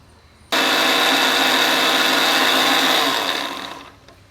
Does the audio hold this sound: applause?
no